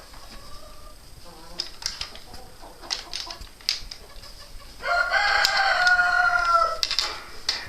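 Chickens cluck in short bursts inside a winter coop, then a rooster crows loudly and close for a couple of seconds, with a voice speaking partway through.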